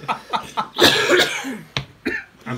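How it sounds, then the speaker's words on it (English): A person coughs from smoke in the air, giving a run of close, loud coughs and a long rough hacking burst, with short breaths between them and no talking. "I'm coughing from all the smoke in the air."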